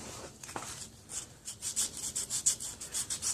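Sandpaper rubs on a small steel sledgehammer head in quick, rhythmic strokes after a few scattered scrapes, the scratchy rasping growing steadier and close up, with no talking.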